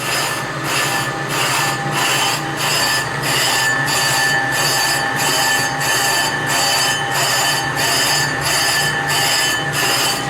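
A brake drum from a 1959 VW pickup being skimmed on a lathe: a steady metallic grinding scrape with a faint high squeal runs on without a break, close and loud, with a regular pulsing rhythm from rotation.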